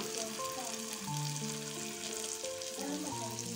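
Soya beans frying in hot oil in a Kerala home kitchen, a steady dense sizzle that holds throughout at moderate level, with faint background music and no pause.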